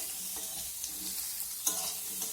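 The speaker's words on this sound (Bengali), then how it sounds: "পেঁয়াজটাকে দিয়ে আমি আরও একটু ভাজা ভাজা করে নেব আলুর সঙ্গে পেঁয়াজটাকেও" Onion and potato fry in a pan while being stirred, a steady soft sizzle with occasional scraping clatters from the spoon.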